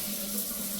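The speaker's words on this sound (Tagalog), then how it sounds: "Ayan o, yan ang shower niya." Shower water running steadily, a brief continuous close hiss of spray with no voices.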